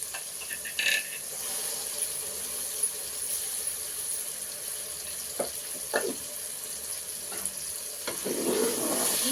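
A soft, steady sizzle of ground masala frying with tomato in a pan for jackfruit-seed kurma, with occasional clinks and scraping stirs; no voices.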